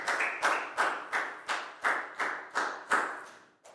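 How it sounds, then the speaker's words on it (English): Students in a Year 4 English class applaud a classmate in unison, about ten sharp, evenly spaced group claps in a steady rhythm, each ringing briefly in the room before the next. "a big round of applause for Lakau"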